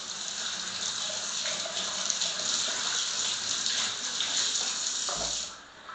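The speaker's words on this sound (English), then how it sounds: "let me wash my hands" Tap water runs steadily into a sink as hands are washed underneath, a bright close splashing hiss with small shifts in flow before it cuts off near the end.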